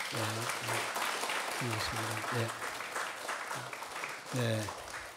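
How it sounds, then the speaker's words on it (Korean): A church congregation at Sunday morning worship claps in welcome for a newly introduced member, a fairly quiet, dense patter running for several seconds with a voice speaking intermittently over it. "박수 한번 해주시고요"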